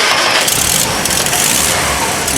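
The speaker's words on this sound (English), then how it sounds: "you want to start it up for us?" Starter cranking and ignition of a 1951 Nash Ambassador's engine, a loud, close, continuous churn with a faint voice in the background.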